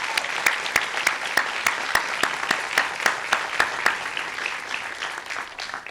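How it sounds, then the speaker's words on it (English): A round of applause for police officers at a Pasadena recognition awards ceremony, steady clapping from a crowd, near and fairly loud, with some sharp individual claps standing out. "If you guys can give officers a round of applause"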